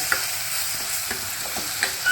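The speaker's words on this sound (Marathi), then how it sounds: "आता आपण भाजी एकदा चांगली हलवून घेतली बघा" Bottle gourd curry is stirred in a pressure cooker pot, giving a soft, steady sizzle with a few light scraping taps of the spoon, fairly quiet and with no talking.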